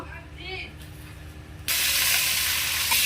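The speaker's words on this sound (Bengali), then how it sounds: "প্রথমে আমি এই পাঁকাল মাছগুলো ভেজে নেব" Mud eels frying in mustard oil in a pan, a loud broadband sizzle that bursts in suddenly after a quieter stretch with soft voices and clatter, then holds steady and close.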